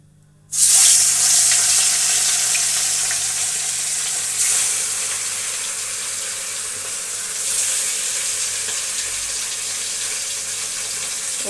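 Pieces of katla fish hit hot oil with a sudden loud burst of sizzling, which settles into a steady, bright, close crackle that swells briefly again partway through.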